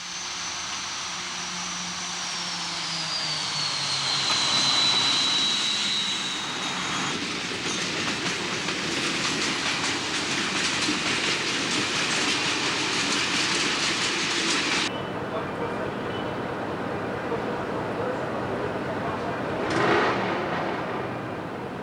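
A BB electric locomotive hauls a train along the Alps line in 2005, rumbling steadily closer and passing with clickety-clack wheel rhythm, a faint squeal, then fading into a quieter roll with no talking.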